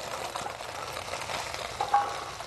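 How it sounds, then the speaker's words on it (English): Vegetables fry in a pan for a Chinese dish, giving a steady sizzle with stirring scrapes and a brief sharper clink near the end. "in goes the vegetables"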